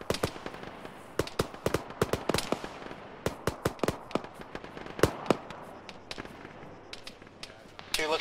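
Incoming gunfire in a ShackTac military shooter game, with many sharp rifle cracks arriving in irregular bursts and single shots, some near and loud and others more distant, while people talk in the background.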